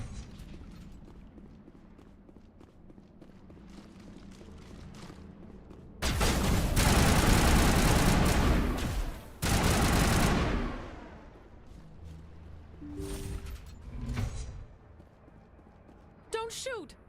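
Gunfire in Mass Effect breaking out as two loud sustained bursts in the middle, then fading back to quieter ambience and scattered sounds, with speech around it.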